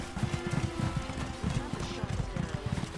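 A horse gallops in The Elder Scrolls Online, its hooves beating out a steady, rhythmic clip-clop that continues throughout at moderate volume.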